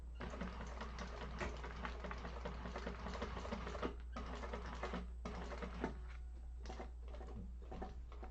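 Sewing machine top stitching a Cassia satchel during a sewing class, a rapid, steady mechanical clatter that runs throughout, with a few brief pauses and rhythm changes, quiet and close, with no talking.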